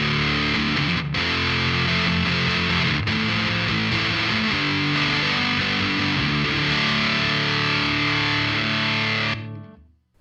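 A Muzzsimp fuzz pedal with its sweep control engaged gives a thick, saturated electric guitar tone that rings loud and steady, with two brief breaks early on, before cutting off abruptly.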